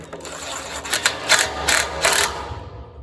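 A ratchet works a starter bolt loose on an Allis Chalmers WD tractor, several close rasping clicking strokes in a row, then a fade to quiet.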